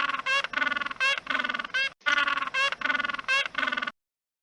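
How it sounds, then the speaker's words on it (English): A penguin brays in harsh, rapid pulsed bursts, a buzzy repeated series broken by a brief pause, loud and close with no voices. "Penguin."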